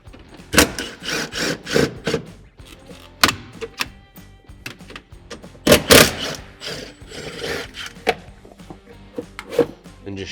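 A hand ratchet backs out T40 screws holding the middle panel over the ECU and fuse block on a Polaris Ranger XP 900, with close, loud bursts of rapid clicking and metallic clatter separated by short pauses.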